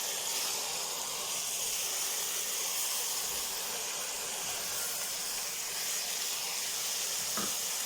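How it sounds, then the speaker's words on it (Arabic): Minced tomatoes hitting a hot pot of chicken for freekeh set off a loud, steady steam-like sizzle and hiss that holds evenly throughout, with no talking. "بعد ما نزلت كده في الحله بتاعتي بالفراخ، هبتدي انزل كده بالطماطم المفرومه"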